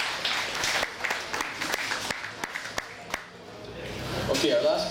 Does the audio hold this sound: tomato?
no